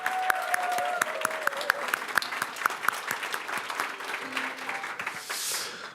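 Audience applause greets a Catholic priest, chair of the Seoul archdiocese's reconciliation committee, as he takes the stage at the eve event of the 2017 Korean Peninsula peace forum. Dense, steady clapping runs throughout with a few sharper claps up close.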